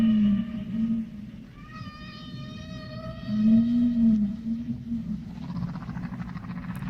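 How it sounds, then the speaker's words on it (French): Whale song, a cetacean vocalization of long, moaning tonal calls that rise and bend, with rich harmonic overtones, repeating in separate phrases against a soft underwater hiss. "Il s'agissait du chant d'un cétacé."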